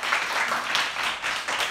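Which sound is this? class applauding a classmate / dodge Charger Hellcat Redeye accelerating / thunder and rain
class applauding a classmate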